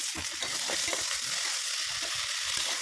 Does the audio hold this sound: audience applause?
no